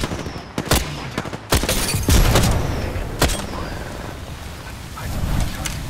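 Loud, close bursts of gunfire from an Apex Legends battle royale match, several sharp shots spaced irregularly amid a rushing, noisy game backdrop.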